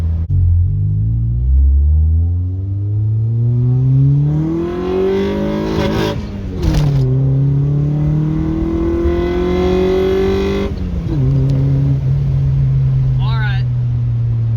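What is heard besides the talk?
Honda VTEC engine pulling to the rev limiter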